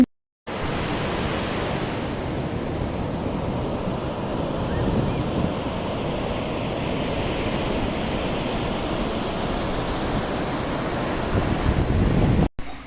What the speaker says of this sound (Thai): มาทะเลก็ได้รับฟังเสียงของธรรมชาติ